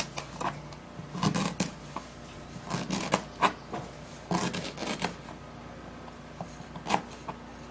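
A knife chops washed ginger into tiny pieces on a board, giving quiet, irregular tapping cuts in quick clusters, faint and close.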